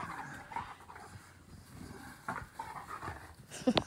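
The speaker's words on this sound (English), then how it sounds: "When's the last time you played like a puppy with your doggies, huh?" Dogs pant quickly and heavily during play, close by, with a few small whimpers and yips and a sharper squeal near the end.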